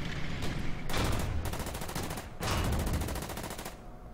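Artillery fire in the World War II strategy game Order of Battle, set in the Marshall Islands with US Marines: two loud bursts of rapid, crackling gunfire and blasts, one after the other, with no talking.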